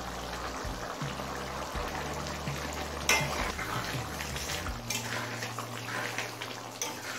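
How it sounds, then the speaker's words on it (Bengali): Chicken curry with figs and ground garam masala being stirred in a pan, with soft scraping and sizzling bubbling of thick gravy, steady and close throughout, no talk. "গরম মশলাটা মিশিয়ে নিয়েছি।"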